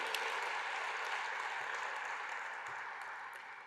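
An audience at the Tulsa Regional Chamber's 2025 annual meeting and inauguration breaks into sustained, dense clapping that holds steady before slowly tapering off.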